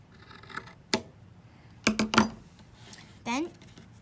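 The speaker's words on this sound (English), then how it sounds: "take some sewing scissors and cut out the the letter J from mark to mark." Sewing scissors snip through fabric in a few short, crisp cuts spread unevenly across a quiet moment, close and fairly soft, with small rustles between them.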